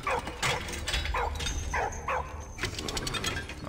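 A dog in the video game Valiant Hearts yips, whimpers and barks in several short bursts, fairly close, over a steady game soundscape with no talking.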